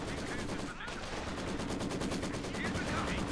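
Maxim machine gun firing in the video game Company of Heroes 2, a long unbroken burst of rapid, evenly spaced rounds, loud and close with dense battlefield noise beneath.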